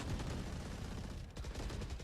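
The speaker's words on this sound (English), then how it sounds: "A lot of bullets being traded back and forth" Rapid gunfire crackles during a competitive Valorant esports match, a dense continuous exchange of shots heard fairly faintly under the broadcast mix, with no pauses across the short burst.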